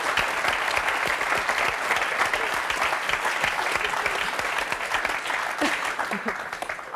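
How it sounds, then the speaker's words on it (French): A French TV talk-show studio audience applauds steadily and densely for several seconds, with the clapping fading slightly near the end. "On peut applaudir Christine Robalo."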